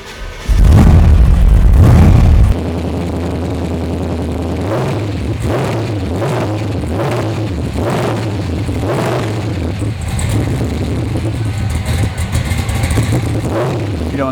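A 1969 Chevrolet Camaro with a 540 cubic inch Merlin V8 cranks and fires with a loud, brief burst, then settles into a lumpy, rumbling idle with rhythmic throttle blips, heard up close and without talk.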